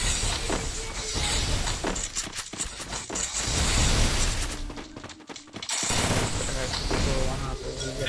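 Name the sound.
short range gun firing in a video game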